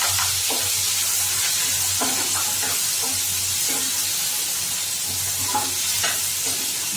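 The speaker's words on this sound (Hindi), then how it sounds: "अब इसमें हम डालेंगे 2 बारीक कटे हुए प्याज" Finely chopped onions fry in hot oil with asafoetida, a steady, close sizzle with occasional stirring scrapes, no voices, for Indian-style baingan bharta.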